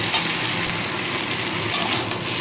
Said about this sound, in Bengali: কপি ডাটিগুলো সম্পূর্ণ দিয়ে দিলাম একটু নাড়াচাড়া করে নিয়ে দিয়ে দেবো